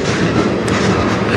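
A very long freight train loaded with truck frames rolls steadily past on the Strathroy Sub near Sarnia, a close, continuous rumble with rhythmic wheel clatter over the rails and no pauses.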